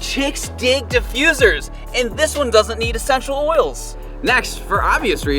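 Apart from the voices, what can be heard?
None of the usual background noises is heard.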